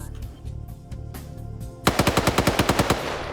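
Automatic gunfire in a multiplayer shooter match, with a few scattered shots followed by a fast, loud burst of about a dozen evenly spaced rounds up close.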